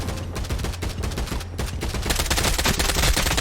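Rapid automatic gunfire from DMR and shotgun weapons in the Contractors first-person shooter game, a dense, loud stream of overlapping shots that builds into heavier, continuous fire partway through.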